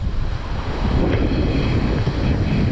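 Ocean waves and gusting wind on the Texas coast during saltwater fishing, with loud continuous surf and wind buffeting the microphone throughout.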